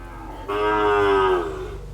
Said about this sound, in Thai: วัวลูกพื้นตากนะครับ ไม่ใช่วัวพม่า ครับ